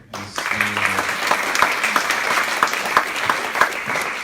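Audience at a book presentation breaks into strong applause after a short moment of quiet, dense clapping with a few sharper individual claps standing out, sustained and fairly loud.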